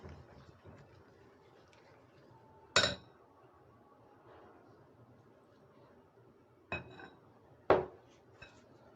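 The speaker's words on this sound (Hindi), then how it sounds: "तकरीबन आधा कप दूध मैंने इसमें शामिल कर दिया है और इसको बस इसी तरह हिलाते हिलाते ही हम अच्छी तरह से मिक्स कर लेंगे" A spoon stirs milk into Oreo cake batter in a bowl, giving a few distinct metallic clinks against the bowl between quiet, soft scraping, close and with no talking.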